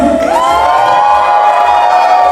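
Party guests at a sweet sixteen celebration cheer loudly and continuously, a dense wall of whoops and shouting voices from close by that swells early and then holds steady.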